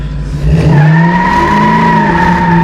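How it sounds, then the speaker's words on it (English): A GEN 3 Hemi Gremlin does a burnout on fresh pavement, its tires squealing in a loud, sustained screech over the deep, steady roar of the V8 that runs through the whole stretch. "think I could friggin' leave you without doing just a little friggin' burnout?"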